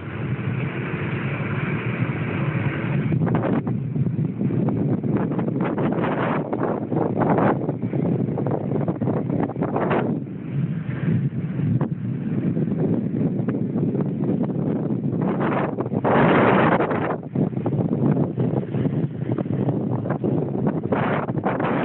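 Wind gusts steadily across a pier at San Blas, a broad continuous rush into the microphone with fluctuating intensity and occasional louder surges, with a motorboat heading out nearby.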